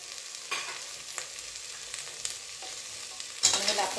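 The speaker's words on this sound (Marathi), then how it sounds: "त्याला आपण थोडंसं हलवून घेतलेलं शिमला मिरचीला अर्धी कांद्याची पात त्याच्यामध्ये मिक्स करूया" A spoon stirring capsicum and spring onion greens in a pan, with soft scraping strokes and a light sizzle, a sharper clatter near the end.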